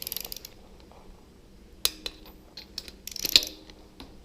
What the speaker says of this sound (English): Now to grab the torque wrench, which this only goes down to 10 foot-pounds